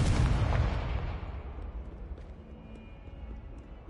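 A heavy booming blast from the Confringo spell in Hogwarts Legacy, a loud explosive burst that rumbles and slowly fades over a few seconds into a quiet game background.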